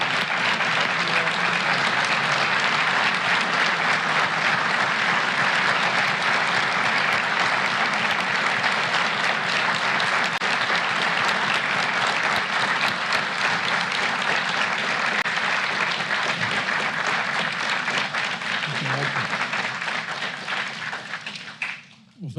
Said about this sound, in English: let's give one last big round of applause to the recipients of